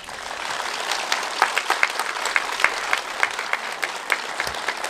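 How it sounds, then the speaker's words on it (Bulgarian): Steady applause from a concert audience at a concert in Dolni Chiflik, a dense wash of clapping with sharper individual claps standing out, loud and continuous. "вашите аплодисменти означават много за нас"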